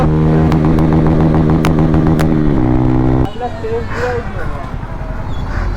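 A Bajaj Pulsar N160 motorcycle with a loud aftermarket exhaust, engine roaring at full throttle with a rising then dropping harmonic drone, followed by quieter idle and road noise.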